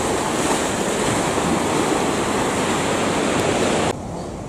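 Ocean surf washing onto the beach at Cha-Am, a dense continuous roar of breaking waves mixed with wind buffeting the microphone, loud and steady before dropping off abruptly near the end.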